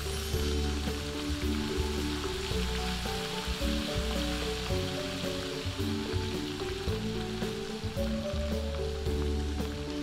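Washed anchovies fry in hot oil over a low flame, a soft, steady sizzle and fine crackle running continuously at low volume, with faint tonal background sound behind it.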